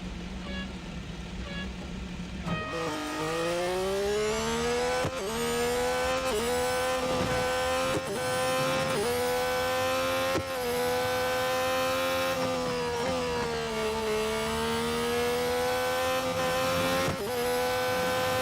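In the Real Racing 3 video game, a race car runs a tier 18 autocross event, its engine whining loudly and continuously as it climbs and drops with gear changes, with occasional tire squeal.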